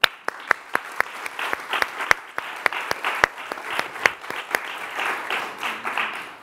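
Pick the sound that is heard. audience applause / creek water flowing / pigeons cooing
audience applause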